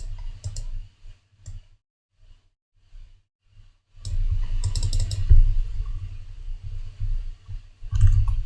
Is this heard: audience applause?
no